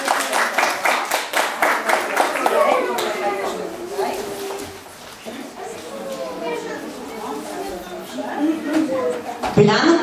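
Parents clap for preschoolers at a kindergarten graduation, with quick bursts of applause at the start and again near the end. Children's voices and adult talk fill the quieter stretch between.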